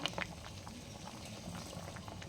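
Lentil dal boiling in a pot, a soft continuous bubbling and popping with faint liquid patter throughout, steady and close.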